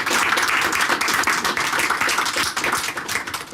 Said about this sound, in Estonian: et see väärib ühte aplausi.